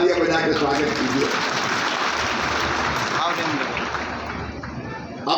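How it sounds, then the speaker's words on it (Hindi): Crowd applause at a Madhya Pradesh government foundation-stone ceremony in Mandideep, held for Chief Minister Dr Yadav, keeps up a dense, steady roar the whole time, with a voice speaking over it at the start. "उनका भी तालियां बजा के स्वागत कीजिए"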